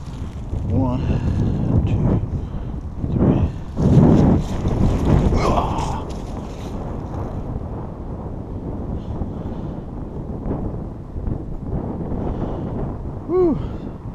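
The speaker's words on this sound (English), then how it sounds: "The wind is blowing against me at about 8-9 miles per hour." Wind buffets a microphone outdoors at about 8-9 mph, a steady low rumble and roar that swells and eases throughout, with brief muffled voice sounds early on.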